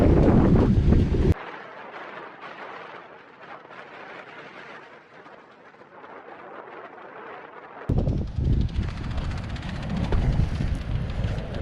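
A strong headwind buffets the microphone on a coastal walking track on the west coast of Tasmania, roaring loudly in heavy gusts with a calmer, hissing stretch in the middle.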